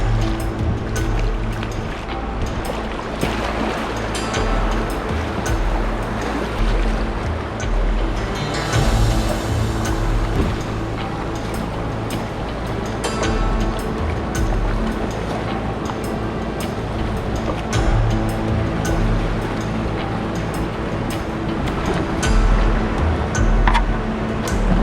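River water rushes over rapids in a remote Arctic watershed, a loud, steady broadband roar and splash that continues without a break from start to finish.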